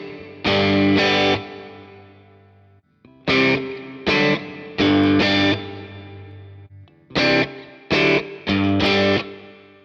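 Electric guitar played through a Universal Audio Ox tube amp setup on its '50s twang' preset: several short, bright, twangy chord and note bursts separated by brief gaps, loud and close, with no talking.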